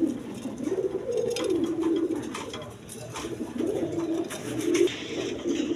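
Red Bombay pigeons coo repeatedly in low, throaty rolling phrases, several overlapping bursts close by over a quiet background.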